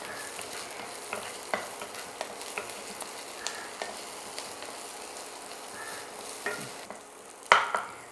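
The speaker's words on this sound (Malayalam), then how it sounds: "2 പച്ചമുളക് അരിഞ്ഞതാണ്, അതിട്ടിട്ട് നല്ലോണം ഒന്ന് ഇളക്കണം." Chopped green chillies sizzle and fry in a hot pan while being stirred, a continuous close crackle broken by occasional scrapes and clinks of the spoon against the pan.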